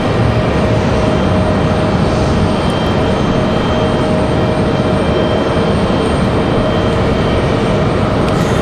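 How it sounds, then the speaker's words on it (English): Southwest Airlines plane arriving at Raleigh-Durham International from Atlanta, a loud, steady jet roar with a faint high whine, sustained for the whole stretch, no voices. "So here comes Southwest from Atlanta."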